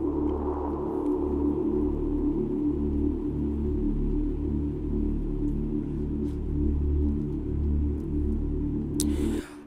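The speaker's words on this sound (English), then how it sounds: "this sound was gotten from a stock plugin in FL Studio called GMS" A static suspense drone from the GMS stock synth plugin in FL Studio, used in an Afrobeats beat: a steady, dense low hum with grainy noise that holds for the whole clip and cuts off at the end.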